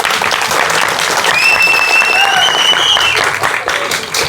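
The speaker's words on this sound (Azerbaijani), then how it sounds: "Ən böyük alqış kimə düşür?" An audience at a school event breaks into loud, sustained applause. The clapping fills the whole moment, with a few high whistles or cheers rising above it midway.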